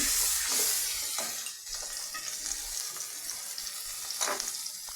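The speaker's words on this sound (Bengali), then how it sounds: "ভালো করে মশলার সাথে মিশিয়ে নিচ্ছি" Spices with salt and turmeric being stirred and mixed in a pan, a close, steady sizzle broken by repeated scraping strokes, with no talk.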